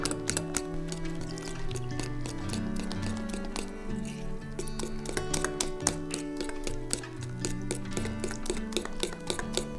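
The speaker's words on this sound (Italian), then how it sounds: "sbattiamo bene senza lasciare grumi" Batter for fried sage-leaf fritters whisked by hand in a bowl, a steady rapid clatter of whisk against the bowl's side with quick metallic ticks, close and continuous throughout, with no talking.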